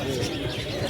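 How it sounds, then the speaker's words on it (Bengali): A king pigeon at a pet market, a brief soft coo lasting under a second amid close, busy market background. "এই হচ্ছে কিং পায়রা"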